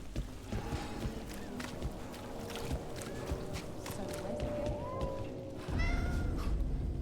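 A cat meows in Dragon Age: The Veilguard, a few short, fairly faint mews over quiet game ambience with soft footsteps and a low rumble near the end.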